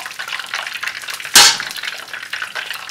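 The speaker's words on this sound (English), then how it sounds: "So I'll continue frying till it's light golden brown." Kosee, Nigerian akara bean fritters, fry in hot oil with a steady close sizzle. Partway through, a sharp splash and hiss flares up before the sizzling settles back.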